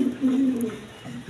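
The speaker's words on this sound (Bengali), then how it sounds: "এখানে এক পেয়ার ব্ল্যাক কালারের বিউটি কবুতর আছে" Low, throaty coos come from a male and female pair of black Beauty pigeons, close by and alone.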